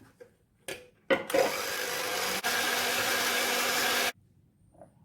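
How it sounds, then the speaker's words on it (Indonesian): An electric hand mixer whirs into bread dough with an egg for Roti O coffee buns, starting after a few clicks and brief bursts, then running steadily and loudly for about three seconds before cutting off abruptly. "Masukkan 1 telur, dikocok lepas dulu, kemudian mixer."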